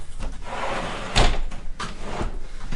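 Shower doors sliding or closing inside the bathroom of a 2026 Trailmaster 24RLS travel trailer: a sharp thump near the middle with a rolling glide before and a softer bump after, close and moderately loud.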